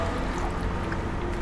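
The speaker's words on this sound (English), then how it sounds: "For alginate bath, what I am using is around 200 ml of water." Cold water, about 200 ml, is poured into a container for an alginate bath, giving a short, steady, soft liquid pour with nothing else heard.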